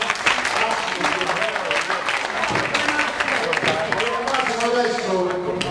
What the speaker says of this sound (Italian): Ci deve essere un applauso per Massimo.